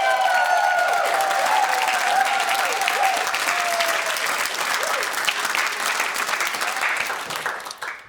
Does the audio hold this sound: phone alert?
no